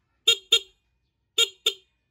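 A car's stock horn honks four short times, two quick beeps, a pause, then two more, sharp and close.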